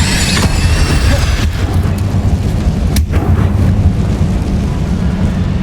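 An Incendio fire spell in Hogwarts Legacy, a loud, sustained roaring rumble with a crackling burst near the start and another sharp hit midway, steady throughout.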